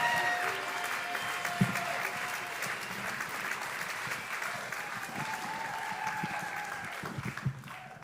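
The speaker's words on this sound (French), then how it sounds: "On les applaudit, on les encourage." Audience applauding slam poetry performers at a French national slam league competition, sustained dense clapping with crowd noise over eight seconds, heard from within the room with a few louder claps standing out.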